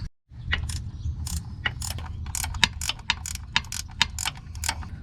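A hand ratchet tightens a washer and nut on a Jeep XJ transfer case shift linkage, giving a steady run of close, crisp clicking strokes with no voices.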